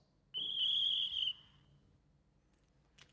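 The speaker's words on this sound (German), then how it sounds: "Funktion F5, eine Funktion außerhalb der Lok, den Pfiff des auf dem Bahnsteig befindlichen Schaffners." Conductor's platform whistle sound function on a ROCO model of an ÖBB 1042 locomotive: one shrill, steady whistle blast lasting about a second, close and clear, followed by near silence.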